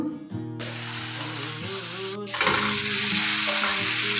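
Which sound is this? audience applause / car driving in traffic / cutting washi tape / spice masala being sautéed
spice masala being sautéed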